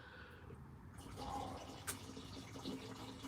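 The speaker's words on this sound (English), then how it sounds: "Oh no, now we gotta hear the waterfall." Steady low rush of running water like a small waterfall, continuous and fairly faint, with a brief splashy spike partway through and no talking.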